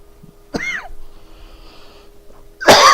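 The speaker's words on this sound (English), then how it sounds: "I'm having a coughing fit." Two sharp, harsh coughs close to the microphone, the second louder, separated by quiet breathing.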